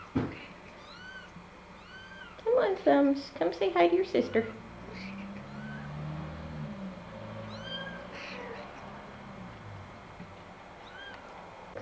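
Cats and kittens at home: a burst of loud repeated meows and a short run of high squeaks from a tiny kitten, heard near and under a person talking gently to the animals.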